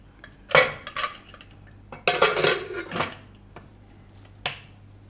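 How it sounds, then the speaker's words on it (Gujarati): A metal pressure cooker lid is set and clanked shut in a home kitchen while cooking corn and drumstick curry, with a few sharp metallic clanks and rattles in separate bursts, fairly close, no talking. "હવે કુકરનું ઢાંકણું બંધ કરી દઉં."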